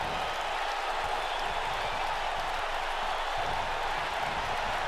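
An arena crowd cheers in the WWE 2K19 wrestling video game during a tag team championship match in Winnipeg, a dense, constant roar of noise with no gaps.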